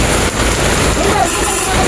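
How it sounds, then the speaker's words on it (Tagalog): Heavy rain pours down in a dense, constant roar that fills the whole stretch, loud and close, with a voice speaking beneath it. "Lakas ng ulan."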